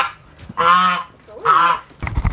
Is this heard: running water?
no